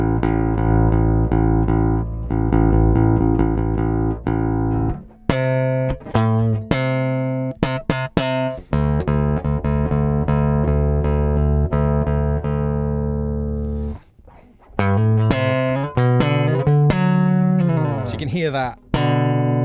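Electric bass running through a Nordstrand Acinonyx compressor pedal via the active input, sustained notes and slides held even and steady, with short gaps between phrases and a voice talking over parts.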